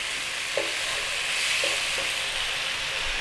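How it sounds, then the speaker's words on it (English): Sauce and large chilies stirred in a frying pan during a Thai home-cooked fish and celery stir fry, with a steady sizzle and a few soft scraping strokes of the utensil, close and continuous. "And let's give this a stir around. So that's our sauce in there."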